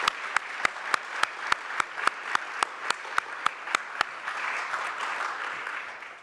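Single hands clapping in a steady, evenly spaced rhythm, about a dozen sharp claps over four seconds, then softer scattered clapping from a congregation at a Sunday service.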